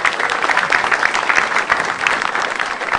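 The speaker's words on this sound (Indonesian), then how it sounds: "tepuk tangan dong buat saya" Audience applause at a stand-up comedy battle show, dense steady clapping from a crowd, loud and continuous throughout.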